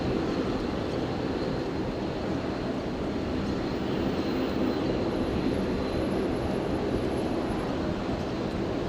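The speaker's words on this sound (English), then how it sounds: "probably just after this China Southern departure" A China Southern airliner departing Brisbane Airport, heard as a continuous low, broad engine roar that stays steady and fairly loud throughout with no voices.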